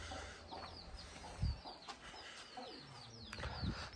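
Roosters and hens on a farm cluck faintly at a distance, with a couple of short, sharper calls and soft flutters standing out against quiet background noise.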